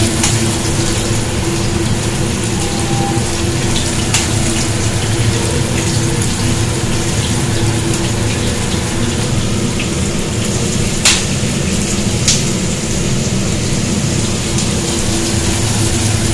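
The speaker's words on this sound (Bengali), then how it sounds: "প্রচণ্ড ফাটছে লঙ্কা দেওয়ার পর পুড়ে গেছে" Chillies spit and crackle loudly in hot oil with five-spice, a dense continuous sizzle carrying sharp pops throughout, with no talking.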